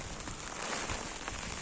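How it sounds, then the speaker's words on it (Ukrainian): Heavy, steady downpour on a cold, windy youth football pitch, a dense broadband hiss of rain on surfaces that stays constant and loud without a break. "Щось дуже сильний вже дощ пішов."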